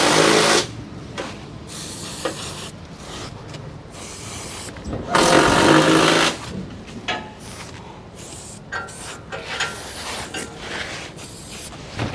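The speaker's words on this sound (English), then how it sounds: "Bit of spray paint." Loud hissing bursts from a spray paint can, several short sprays and one longer blast, with quieter rustling and handling noise between them, during a crusher toggle plate replacement.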